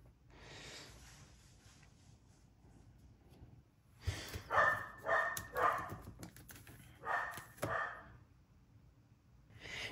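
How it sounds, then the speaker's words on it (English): Pet dogs bark in a burst of sharp, loud yips and barks close by, several in quick succession with pauses between, after a quieter stretch of faint room noise. "All right, pups. I heard you."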